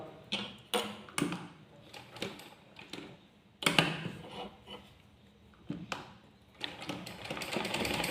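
A sewing machine stitches a kick pleat into fabric in short, irregular runs of clattering needle strokes separated by quiet pauses, with a longer continuous burst toward the end, close and fairly soft.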